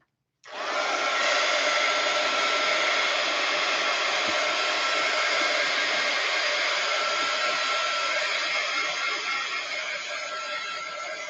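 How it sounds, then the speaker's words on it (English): A heat gun blows steadily to dry a craft project, switching on abruptly into a loud, even whooshing hiss that holds for about ten seconds, nearby and alone. "let me heat gun it again. Make sure it's good and dry."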